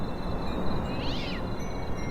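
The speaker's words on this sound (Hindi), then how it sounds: "भाई वहां कोई बिल्ली बैठी है क्या?" A cat meows once, faint and brief, inside a shawarma shop in a video game, set against a steady wash of broadband background noise.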